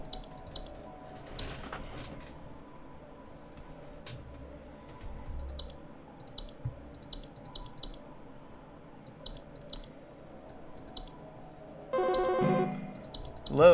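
A telephone rings in the video game Home Safety Hotline, short repeated electronic trills spaced through quiet clicking, with a louder burst near the end.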